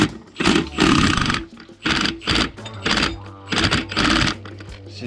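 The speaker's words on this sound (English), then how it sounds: "Maybe an impact?" An impact wrench works loose a tight 13/16 suspension bolt on a 2020 Jeep Wrangler JL Unlimited Rubicon during a front lift install, firing in several loud, close hammering bursts separated by short pauses.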